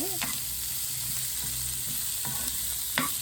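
Onions frying and being stirred in a pan for Jaffna-style prawn curry, a steady broadband sizzle with a few sharp scraping stirs and utensil knocks, close and continuous with no talk.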